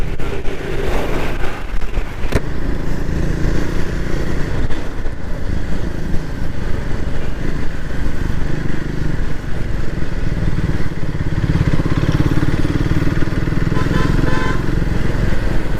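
A Triumph Speed 400 motorcycle is ridden at steady speed, its single-cylinder engine droning loud and close with wind rush and slight revving changes throughout, no pauses.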